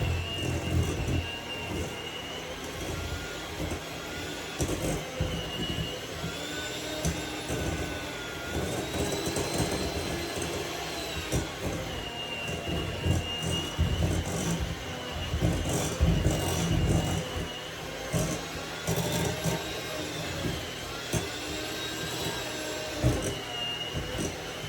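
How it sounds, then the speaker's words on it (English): An electric hand mixer whirs steadily for the whole stretch as it beats butter and sugar into a fluffy mixture in a bowl, with rubbing and scraping noises mixed into the continuous motor drone. "To get your hand mixer moving around the entire bowl so you're not only mixing one spot."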